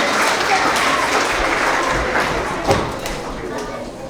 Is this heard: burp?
no